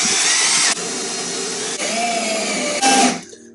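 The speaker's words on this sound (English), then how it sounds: "You got to apply some force to this because it is a hole saw and you just have to push through." A hole saw on a power drill cuts through a door for a lock striker, a loud continuous whine with brief shifts in pitch as pressure changes, stopping abruptly near the end.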